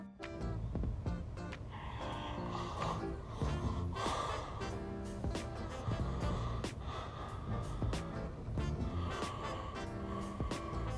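A man asleep on a Twitch stream snores with loud, rough snorting breaths in an irregular rhythm, ending in gasps as he startles himself awake, over constant background noise.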